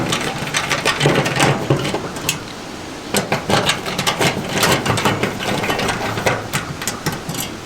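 Screws being backed out of the electrical cover on a MrCool ductless mini split during a DIY install, with close, repeated ratcheting clicks in short bursts and a brief pause midway.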